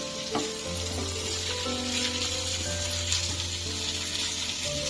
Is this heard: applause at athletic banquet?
no